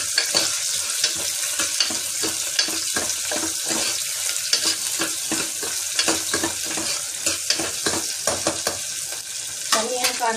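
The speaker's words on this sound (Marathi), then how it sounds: "त्याच्यानंतर कांदा चांगला परतून घ्यायचा, आपल्याला जास्त लाल नाही करायचा कांदा" Onion sautéing in a pan for khichdi, a steady loud sizzle broken by repeated scraping strokes of a spoon stirring the pieces, with no talking.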